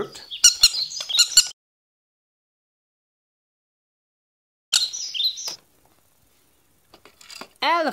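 A bird gives bright, high chirps in short bursts, separated by silence, with a voice speaking and imitating the tweeting call between them.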